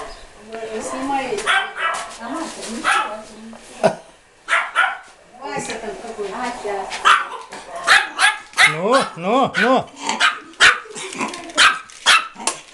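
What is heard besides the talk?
small dog barking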